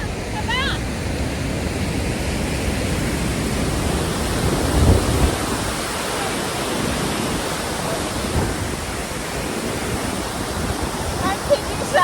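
A large waterfall in New York roars as a steady, dense wash of falling water, loud and continuous throughout, with faint voices briefly audible beneath it.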